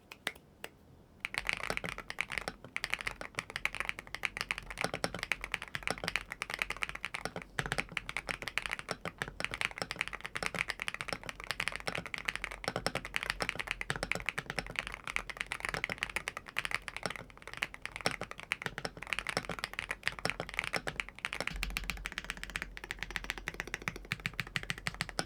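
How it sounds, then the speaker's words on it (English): Rapid typing on a LUMINKEY65 HE magnetic-switch mechanical keyboard with keycaps fitted, a dense, continuous stream of close, crisp key clacks lasting about 25 seconds with no talking. "here's a little sound test with the switches and the keycaps on."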